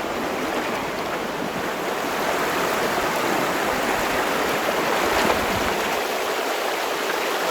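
A small waterfall cascades in a mountain stream in Haute-Savoie, a dense, continuous rushing hiss of water that stays close and even, with no voices.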